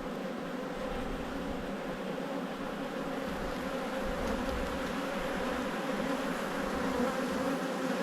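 Honeybees swarm around an opened hive, a dense, steady buzzing hum that stays close and even, with no one talking.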